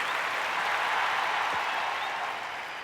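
Mohanlal fans in an awards-show audience breaking into sustained, dense clapping that stays full for most of the stretch, then tapers slightly toward the end.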